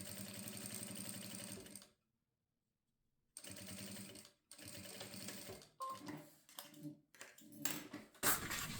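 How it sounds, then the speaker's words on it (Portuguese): Bursts of close sewing-machine stitching topstitch a seam on bias tape folded to the front of a toiletry pouch, with a long pause, then shorter irregular runs and small clicks of handling. "eu trago esse viés aqui pra frente e rebato essa costura"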